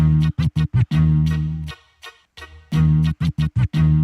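Flex Beat player on an Akai MPC Live 2 producing a scratch-like stuttering sample, loud rhythmic chopped bursts in quick runs and longer held stabs with a brief gap partway through.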